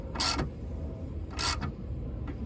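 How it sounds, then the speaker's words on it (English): A ratchet wrench retightens a 10mm bolt on the underbody of a Subaru BRZ, giving two short bursts of fast clicking separated by a pause, close and fairly clear. "I'm gonna retighten the 10mm bolt that I loosened in order to install a new retaining clip"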